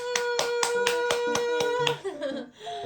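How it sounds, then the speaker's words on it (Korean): A handful of people clap hands at home alongside a baby, about eight sharp claps in a steady rhythm close by, after which the clapping stops and a voice and muffled sounds follow. "박수!"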